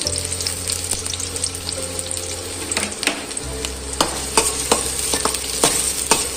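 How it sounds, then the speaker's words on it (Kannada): Sliced onions fry in hot oil in a pan, a steady close sizzle broken by sharp scraping and clanks as a spatula stirs them around. "ಕಾಯ್ದಿರೋ ಎಣ್ಣೆಗೆ ಎರಡು ಈರುಳ್ಳಿನ ಉದ್ದುದ್ದಾಯಿಸಿ ಹಾಕ್ಕೊಳ್ತಾ"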